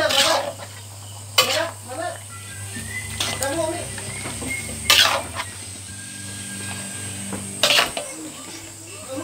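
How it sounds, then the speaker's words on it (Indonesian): Seasoned meat being stirred in a cooking pot, with a few sharp scraping clanks of the utensil against the pot over a low background hum and faint sizzle; a voice and other talk come through. "Lalu kita aduk. Aduk sampai rata."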